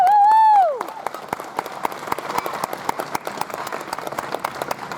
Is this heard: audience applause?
yes